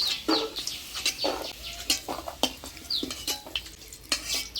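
Potatoes frying in hot oil in a village kitchen, heard as repeated bursts of sizzling with scraping and stirring clatter against the pan and a bird calling in the background.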